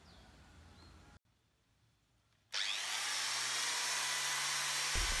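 A grinder sands the surface of a dried jackfruit wood cutting board, starting with a quieter buzz, pausing briefly, then returning as a loud, steady, close whine.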